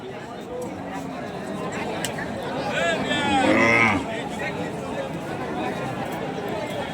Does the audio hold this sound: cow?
yes